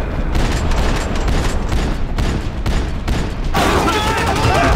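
Max Payne 3 shootout, with dense bursts of rapid gunfire and booming shots layered over one another in a loud, continuous action-game mix.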